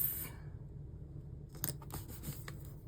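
Scissors snip through planner sticker paper in a quiet room, a faint rub early on followed by a cluster of several crisp cutting clicks in the latter half, close and soft, with no talk.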